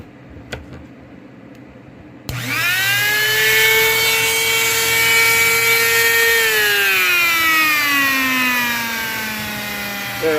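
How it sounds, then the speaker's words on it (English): A high-pitched Dremel rotary tool whines loudly, its pitch dipping as it sands a metal in-line spinner blade, preceded by a brief quiet stretch with faint clicks. "We're gonna use a Dremel."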